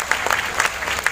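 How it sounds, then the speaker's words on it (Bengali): An audience applauds at a Rabindra-Nazrul Jayanti and 25th anniversary function in Krishnanagar's Rabindra Bhavan, a brisk, continuous patter of many hands clapping in a hall. "আমরা সকলে মিলে একটু জোরে করতালি চেয়ে দেবো আপনাদের কাছে।"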